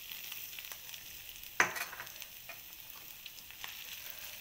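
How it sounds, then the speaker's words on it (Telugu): A generous amount of chopped garlic fries quietly in a pan with a faint, steady sizzle. A single sharp clack of a utensil sounds partway through. "ఇది బాగా ఫ్రై చేసుకోవాలి."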